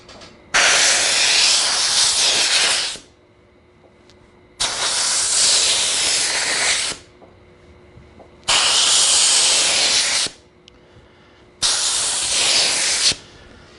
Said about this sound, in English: I'm gonna annoy you with the air hose again.